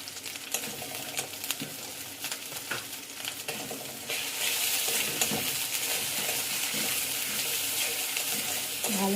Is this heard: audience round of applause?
no